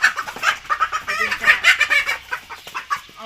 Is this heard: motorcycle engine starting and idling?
no